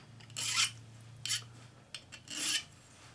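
Three rasping strokes of a flat hand file scraping back and forth on a metal cuff tab, close and fairly quiet, with short pauses between strokes and a low hum beneath.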